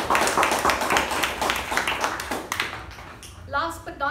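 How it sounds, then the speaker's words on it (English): Members at a Toastmasters club meeting clap in a brisk, moderately dense round of hand claps that thins out toward the end, where a voice starts speaking. "let's hear a big round of applause."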